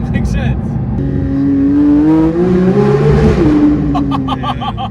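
Porsche 992 GT3 fitted with a Milltek exhaust revving loudly close by, its engine note rising steadily in pitch to a peak before dropping away, with a brief voice near the start and a few light clicks toward the end.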